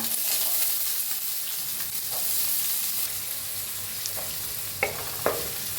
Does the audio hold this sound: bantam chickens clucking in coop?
no